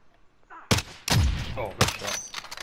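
Gunfire in Call of Duty: Warzone, several sharp, loud shots with a short burst in the middle, ringing out against a quiet background.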